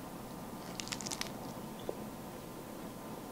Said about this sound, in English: These are your kale chips. I'm gonna eat one.